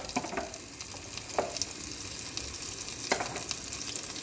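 Chermoula sizzles in olive oil in a pan for a fish pastilla, a continuous close frying hiss with a few sharper crackles and pops, heard alone without voices.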